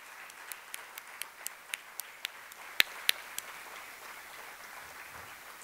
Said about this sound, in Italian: E facciamoci finalmente un applauso